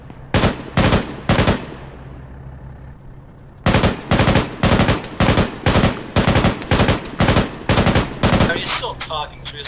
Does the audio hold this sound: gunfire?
yes